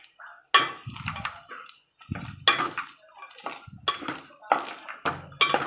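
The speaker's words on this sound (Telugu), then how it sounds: "ఇప్పుడు జీడిపప్పు వేసుకోవాలి ఫ్రెండ్స్" Cashew nuts going into a pan of prawn curry bring a series of close metallic clinks and clatters of a spoon against the cookware, arriving in irregular bursts with quiet gaps.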